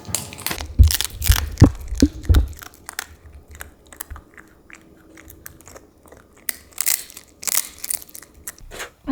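Crispy after-dinner snack crunched close to the mic in an ASMR style, with a loud burst of rapid bites and chewing at the start, then quieter scattered crunches and a few sharp crackly chews later on.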